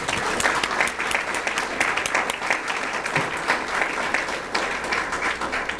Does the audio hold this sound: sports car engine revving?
no